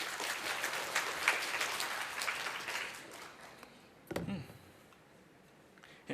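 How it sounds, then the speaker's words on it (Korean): Audience applause at a Python developer conference lightning-talk session, a sustained wash of many hands clapping that fades out gradually, with a few scattered later sounds. "박수 부탁드립니다."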